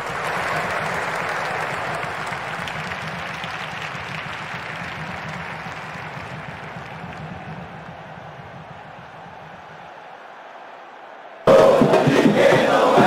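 Stadium crowd noise from the football video game PES 2010 at a Bahia vs Grêmio Copa do Brasil match, a loud roaring, cheering mass that slowly fades over ten seconds before a short burst of sharper crowd noise cuts in at the end.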